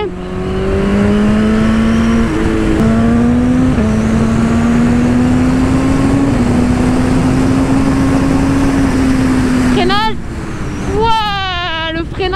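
A BMW S 1000 RR (2022) sport motorcycle engine drones loudly up to speed with shifting pitch, then drops off as it slows under braking, followed by quick rising revs near the end.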